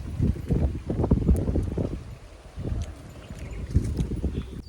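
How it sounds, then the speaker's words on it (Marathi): Strong gusts of wind buffet the microphone on an open farm field in Latur, Maharashtra, making loud, uneven low rumbling that surges and eases over several seconds. "एकदम भूतासारखं वारं सुटलं"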